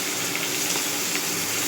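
Carrot pieces fry in hot oil in a wok, giving a steady, close, even sizzle through the whole short moment with no voices.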